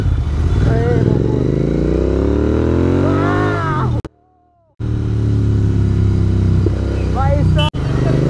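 A Royal Enfield GT650 motorcycle fitted with Red Rooster exhausts, its loud engine rising in pitch as it revs, cutting out briefly, then rumbling on again close by, with people talking over it.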